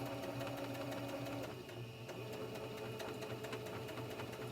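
A sewing machine stitches steadily through a blue jeans hem, giving a faint, even mechanical hum with fast, regular needle ticks throughout.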